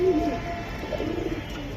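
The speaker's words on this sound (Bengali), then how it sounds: "কবুতরগুলো সুন্দর" Giribaz and silver pigeons cooing, a low soft coo near the start and another fainter one midway over a quiet background hum.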